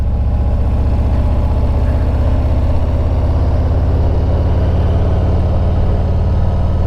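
A motorcycle rounds a curve with a steady engine drone and rumble that holds close and loud throughout, with no talk over it.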